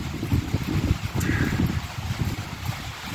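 Wind outdoors on a cold, rainy spring day, buffeting the microphone in loud, rumbling gusts that rise and fall with no voices.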